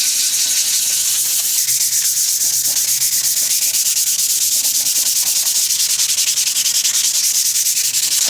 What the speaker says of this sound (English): For surfaces that are showing significant rust, you may have to resort to using a palm sander.